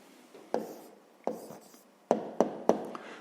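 A pen scratches out an answer by hand for a fifth-grade decimal arithmetic exercise: five short, separate strokes with quiet gaps between them, close and fairly soft, with no talking.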